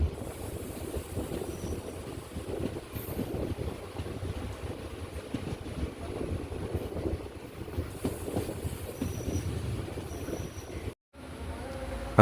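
Train pulling out of Parassala railway station in Kerala, heard from aboard as a steady low rumble and rattle of the carriage, with wind buffeting the microphone throughout and a brief dropout near the end.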